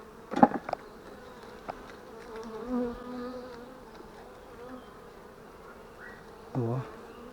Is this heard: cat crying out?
no